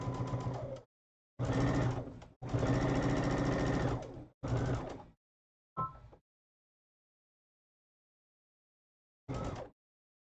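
A sewing machine stitches across the ends of a fabric piece in short bursts of rapid mechanical whirring, separated by pauses and ending with a brief final run after a longer silence.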